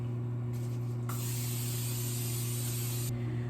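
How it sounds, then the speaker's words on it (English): Cooking spray hisses from an aerosol can into a skillet heating on medium, a steady two-second burst of spray over a low, constant background hum. "I'm going to add a little bit of cooking spray"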